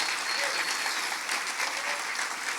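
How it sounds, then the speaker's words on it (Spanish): A church congregation breaks into sustained, even applause, a dense crackling of many hands that holds steady for the whole stretch, with a faint voice briefly underneath. "Y este aplauso es para ti, papá."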